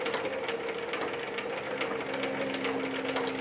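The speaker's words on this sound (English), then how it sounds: "Just stitch right on top of the line that you just stitched." Sewing machine stitching along over a previous line of stitches and across a thick seam, a steady mechanical whirring with a fast rhythmic clatter of the needle, close and continuous throughout.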